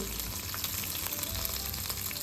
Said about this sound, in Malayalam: ആ മീൻ വറുത്തതിലേക്ക് കുറച്ച് കറിവേപ്പിൻ്റെ ഇല ഇട്ടു.